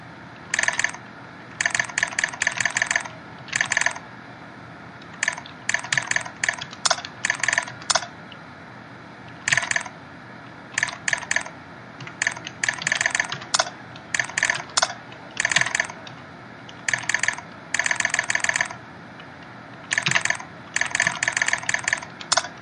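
Rapid bursts of computer keyboard typing clatter through the Progressbar95 video game, close and crisp, coming in quick clusters of keystrokes separated by short pauses over a faint steady hum.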